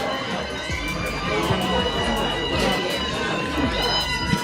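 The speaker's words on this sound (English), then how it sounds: "They're a vocal crowd." A vocal crowd cheers and shouts in a continuous, lively din, with overlapping voices and scattered yells, fairly loud and close.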